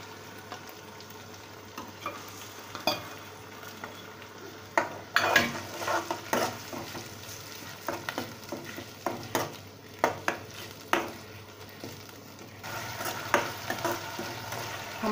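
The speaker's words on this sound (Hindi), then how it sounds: "हमारी प्याज थोड़ी भुन जाएगी" Onions fry in a pan for a besan vegetable dish, crackling steadily while a utensil stirs and scrapes against the metal in repeated irregular strokes, close by and with no talking.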